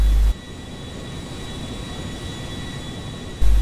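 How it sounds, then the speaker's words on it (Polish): Airliner landing at an airport in the video game GTA V, a steady broadband engine and wind roar held at an even level throughout, with an abrupt jump in loudness at the start and end. "samolot lecący z Liberty City właśnie będzie lądował na lotnisku w Los Santos."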